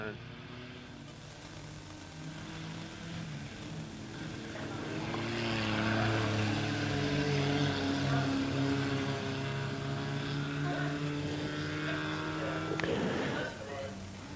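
Hornets-class race cars roar around Lebanon Midway Speedway in a heat race, their engine note swelling as the field passes close and then fading, with a sharp burst near the end.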